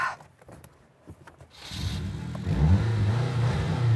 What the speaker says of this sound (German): Jetzt haben wir quasi Sidepipes. Kleiner Soundcheck.